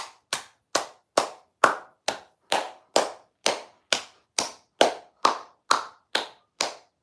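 Someone claps alone in a slow, perfectly even rhythm, about fifteen sharp, fairly close claps spaced roughly half a second apart, with no voices.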